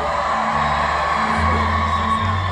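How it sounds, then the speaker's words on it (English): A big outdoor concert crowd in a park roars with sustained screaming and cheering for a singer, a dense, steady wall of whoops and yells with no pauses. "Normally I have to say that twice because not enough people scream, but that was pretty good"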